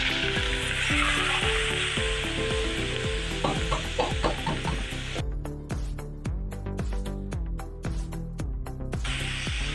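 Onions sizzling loudly in hot oil in a pan for karela gosht, a continuous bright fry hiss broken by repeated scraping stirs that thin out the sizzle toward the end.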